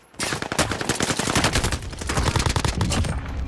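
Rapid bursts of gunfire from Call of Duty: Modern Warfare, a dense, continuous volley of loud shots with machine-gun-like rattling that fills the whole stretch without letup.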